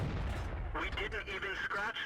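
Tank cannon shots in World of Tanks, a burst of booming, crackling game gunfire and impacts layered over a low rumbling battle mix, with repeated sharp hits in the second half.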